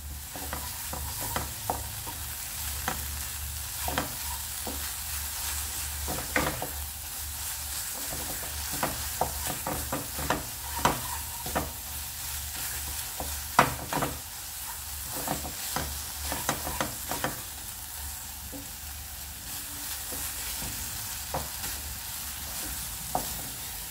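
Coconut burfi mixture is stirred in a pan, giving repeated scraping strokes and a soft, steady sizzle, close and unaccompanied by talk.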